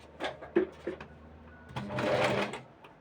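A sewing machine puts a few stitches through fabric for a zipperless cushion cover, quiet and close, with short bursts of stitching, a pause, and then a longer run.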